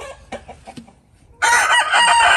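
A rooster lets out a loud, close crow that bursts in after a few softer clucking notes and a brief quiet gap, the call holding strong to the end.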